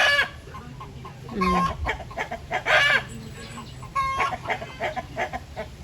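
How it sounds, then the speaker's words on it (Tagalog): A hen laying an egg on a farm gives loud, repeated clucks and a rising squawk, with rhythmic bursts over a quiet background. "So, may pinapaitlog siya na manok. Kaya ganyan yung boses niya."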